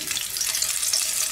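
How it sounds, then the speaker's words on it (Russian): Fillets of silver salmon (coho) sizzle steadily in a frying pan, a close, continuous hiss with no voices over it. "Но все, шипение начинает прекращаться."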